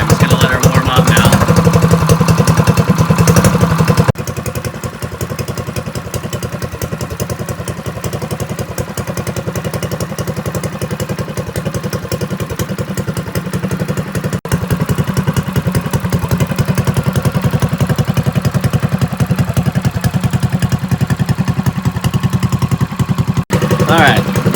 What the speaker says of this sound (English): Alright, I'm just going to let her warm up now.